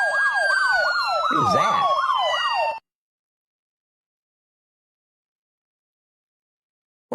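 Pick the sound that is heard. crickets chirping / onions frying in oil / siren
siren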